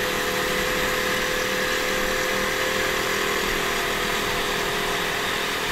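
A 2016 KTM Duke 200 motorcycle engine runs steadily, a close, loud, continuous drone with no change in pitch and no talking.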